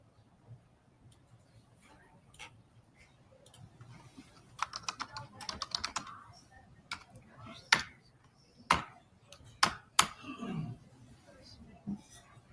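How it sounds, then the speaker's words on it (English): A computer keyboard in a courtroom is typed on in irregular bursts of crisp, close key clicks, some sharp and isolated and others in quick runs, over a faint background hum. "Judge Everett's keyboard is keyboarding."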